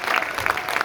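Brief burst of audience applause at a Marcus Garvey film screening: dense, steady clapping from a crowd, lasting under a second.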